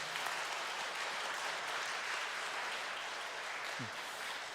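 A faint, distant wash of continuous clapping from a church congregation welcoming nuns at a parish ceremony, even and unbroken with a soft low thump near the end.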